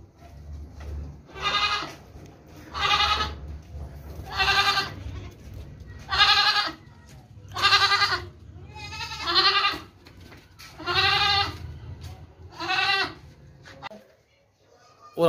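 Goats and young goat kids bleating, about nine loud wavering calls spaced a second or two apart, close to the listener, with faint background noise between them.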